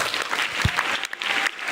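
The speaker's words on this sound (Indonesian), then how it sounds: "tepuk tangan" A studio audience on an Indonesian religious television programme about youth and national defence breaks into applause, a brief burst of dense clapping with a dip partway through before swelling again.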